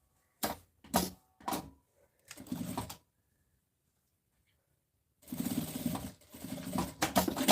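Sewing machine stitching a fabric pencil case in short bursts, three quick runs then a longer one, a pause, and a sustained close stretch of stitching at the end.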